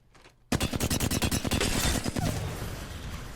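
Rapid automatic gunfire from an Apex Legends weapon emptying a magazine into a training dummy, a loud dense burst of around twenty closely spaced shots that breaks off and leaves a ringing tail.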